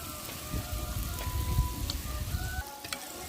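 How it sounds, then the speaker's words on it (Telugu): Chicken pieces frying in a pan while being stirred, giving a steady crackling sizzle with soft scraping and rumbling, fairly close and without talk. "మనం చికెన్ మొత్తం వేసుకొని తిప్పేసుకుందాం"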